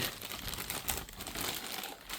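A plastic bag enclosing the Metro Tunnel from a Brio 33513 Metro Railway Set crinkles and rustles nearby, quiet, continuous, and irregular for a couple of seconds.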